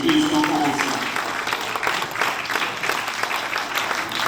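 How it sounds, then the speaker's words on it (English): Book launch audience rises in a standing ovation, loud continuous clapping throughout with a voice and crowd murmur mixed in beneath. "with a standing ovation for what he has done, if you can stand and if you can clap, please welcome Prince Dave"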